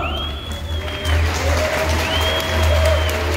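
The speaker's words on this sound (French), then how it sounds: "Allez, pour l'équipe romaine, on applaudit bien fort." An audience applauding for the Roman team at a Gaulois versus Romains show at Parc Asterix, sustained clapping from a crowd that swells in loudness, with whistle-like tones over it.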